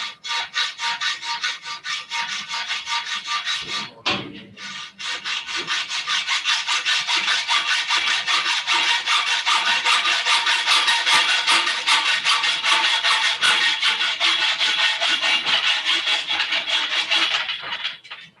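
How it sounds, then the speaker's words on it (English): A hand saw cuts through metal conduit pipe in steady, rapid forward pushing strokes, a loud rasping rhythm that pauses briefly near the start and then runs on continuously and close. "you can sit there and just cut forward like that"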